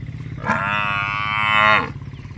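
A single long, loud cow moo lasting over a second, rising and holding steady before fading out.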